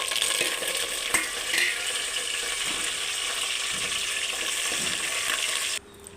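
Cumin, chillies and curry leaves fry in hot tempering oil for sambar, a steady close crackling sizzle with scattered pops and faint stirring clinks, cutting out abruptly near the end.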